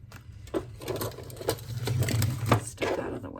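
A sewing machine set on zigzag stitches a napkin journal card closed, running in short bursts with a steady mechanical whir and rattle, close by and alone.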